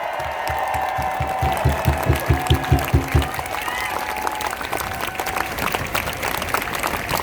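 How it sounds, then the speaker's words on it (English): Crowd at an outdoor Stop Asian Hate rally in Chinatown, New York, applauding and cheering loudly, with rhythmic clapping early on and a continuous wash of claps and shouts throughout. "Please cheer for the Asian American children who are here."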